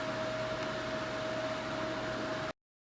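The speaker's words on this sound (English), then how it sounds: "we will put Zoe under the dryer" A salon hair dryer, the kind a client sits under, runs with a steady whirring hum and airy rush for a couple of seconds before cutting off abruptly to silence.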